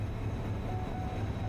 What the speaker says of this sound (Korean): 마침 대곡역에서 의정부역으로 들어오는 상행열차가 들어옵니다